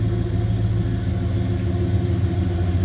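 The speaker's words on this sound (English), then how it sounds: "Slip around to the back so you can hear this 318." A 1967 Dodge Coronet's 318 V8 with an Edelbrock 4-barrel carburetor and intake idles steadily, a low, even rumble heard from near the rear of the car with no talking.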